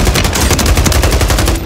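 Rapid automatic gunfire in the video game Call of Duty Warzone 3, a loud dense burst of closely spaced shots that runs without a break.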